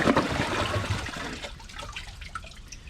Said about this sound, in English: Let's see how it flushes with the half flush.